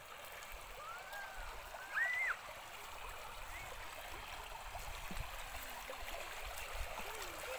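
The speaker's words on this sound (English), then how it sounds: "This is a small stream coming from jungles" A small stream runs out of the jungle toward a hydroelectric dam reservoir, giving a steady, soft rushing and trickling of water throughout, with a brief chirp near the start.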